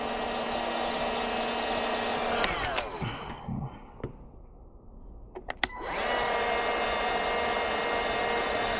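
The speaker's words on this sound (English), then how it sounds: "we've got our normal double wall heat shrink, and we're just going to hit it until the adhesive comes out of it" Heat gun blowing on double wall heat shrink tubing during ECU patch harness work, a loud steady airy roar that cuts out for a few seconds in the middle, then resumes steadily.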